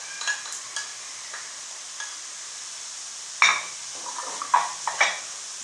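Sliced white onion being stirred in a pan, with scattered scraping and clinking of a utensil against the metal, sparse light taps early then a few sharper strokes later, close and fairly quiet with no talk.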